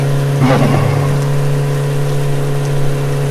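A motorcycle engine drones steadily at speed, around 100 km/h, with a brief rise in revs early on, continuous and fairly loud throughout.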